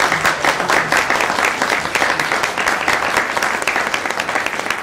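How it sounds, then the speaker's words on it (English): A conference audience at an off-grid festival breaks into sustained applause, dense rapid clapping from many hands that stays loud and steady throughout. "A big round of applause for the"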